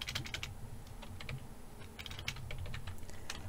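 Quick close clicking on a computer keyboard while code is entered, uneven bursts of keystrokes over a low steady hum, no speech.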